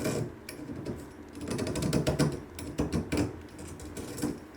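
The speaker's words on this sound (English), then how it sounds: "This is a deburring tool. Kind of just rounds up the edges there." A hand deburring tool rounds off the burred cut edges of a bathtub drain pipe, making quiet, close, rhythmic scraping and ratcheting strokes in short repeated bursts.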